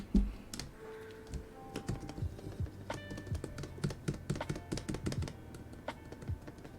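Close, steady typing on a Sesame Ergo keyboard with lubed and filmed Gateron Milky Yellow switches, a dense run of soft clacks and occasional deeper thocks.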